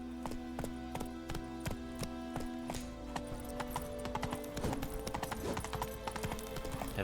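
Roach, Geralt's horse in The Witcher 3: Wild Hunt, gallops steadily with a rhythmic clip-clop of hooves running on and on, loud and close over a low ambient game bed, with no voices.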